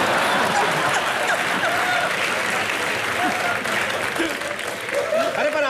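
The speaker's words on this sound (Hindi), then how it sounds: "उन्होंने भी देख कैसे ताली बजाई।" Steady, dense applause from a studio audience at a comedy show taping in Dubai, loud and continuous for several seconds, with voices mixed in underneath.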